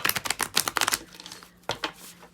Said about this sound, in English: Hard to shuffle now.